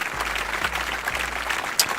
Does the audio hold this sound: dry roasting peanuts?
no